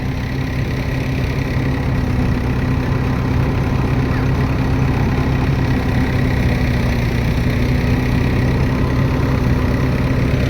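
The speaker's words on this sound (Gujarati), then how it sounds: "અને ટ્રેક્ટર પાછો આવી ગયો" A tractor engine runs steadily on a farm field with groundnut crop, a loud, even mechanical drone with a constant low hum that holds unchanged from start to finish, with no voices.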